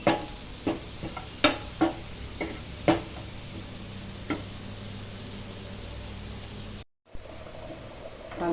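Curry leaves and green chilies sautéing in coconut oil, a soft steady sizzle with a few sharp stirring taps early on, briefly cut off near the end.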